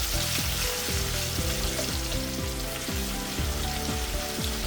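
Garlic paste frying in oil with asafoetida in a pan for a sprouted mung bean curry, a loud dense crackling sizzle that runs steadily from start to finish, nearby and without talk.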